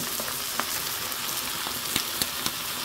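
Octopus stir-fries in scallion oil and seasoning sauce in a pan. A continuous close hiss and sizzle fills the whole stretch, punctuated by a few sharp clicks and pops, with no speech.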